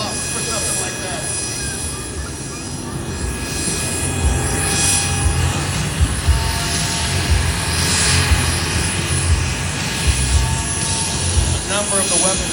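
A B-52 bomber passes over a Marine Corps air show at Kaneohe Bay, Hawaii, its broad engine roar building steadily and holding loud through the clip, with crowd chatter and a public-address voice underneath.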